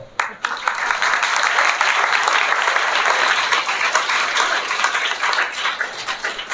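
Loud, sustained applause from a school audience at a headmaster's retirement farewell, dense clapping that swells quickly and holds steady for several seconds.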